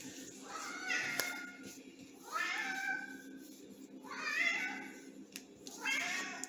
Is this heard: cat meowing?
yes